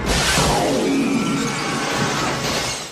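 Glass shattering in a scene from the film Total Recall, a loud sustained crash of breaking panes with scattering shards that fades toward the end.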